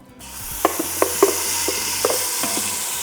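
Sauce poured into a hot Instant Pot after the meat is browned for carnitas in chile verde, a broad hiss with a few light clicks and knocks against the pot.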